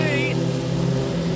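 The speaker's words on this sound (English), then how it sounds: "There goes the Porsche GT." A Porsche GT race car passing on the track at Road Atlanta during the HSR Classic, a steady loud engine drone with a rising whine early on, with a person talking over it.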